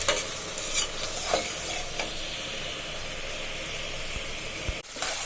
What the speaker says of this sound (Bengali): আমার পেঁয়াজ, রসুন, কাঁচামরিচ আর চিংড়ি মাছ ভালোভাবে কষে গেল।